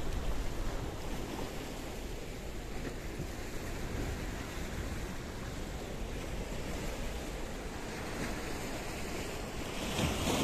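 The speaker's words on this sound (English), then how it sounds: "The sea is a little bit choppy" Choppy Mediterranean sea off Paphos, Cyprus, makes a constant, dense wash of surf and water churn, mixed with wind buffeting the microphone throughout.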